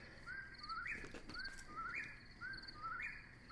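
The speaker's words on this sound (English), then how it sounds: "Beautiful birds singing in the background here." Outdoor birdsong at a dark-sky viewing area: a bird repeats a short rising chirped phrase about once a second, fairly faint over quiet background hiss, with no talking.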